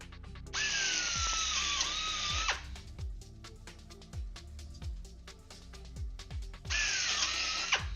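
A power drill whines in two loud bursts as it bores into a wooden drilling block, separated by a stretch of repeated sharp knocks and clatter in a workshop.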